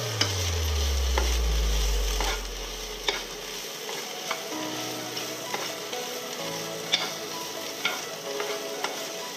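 Tofu stir-fried with browned onion in a pan: an initial low rumble fades into a steady sizzle broken by regular spatula scrapes and taps, close and unaccompanied by speech.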